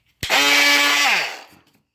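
Craftsman power tool cutting bathroom floor tile, a loud steady whining drone with strong vibration that starts abruptly, runs evenly for about a second, then winds down as the motor spins to a stop.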